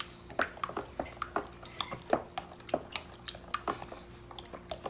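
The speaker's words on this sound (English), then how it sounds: "That's a lot of mixing." A spoon beats sweet potato pudding batter with cinnamon in a bowl, producing quick irregular clinks and scrapes against the bowl, close and fairly quiet, with no voices.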